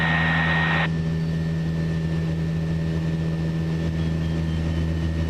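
A propeller aircraft's engine drones loudly and steadily while it climbs after takeoff with the gear retracting. A brief higher hiss at the start then cuts off, and the constant tonal roar carries on alone.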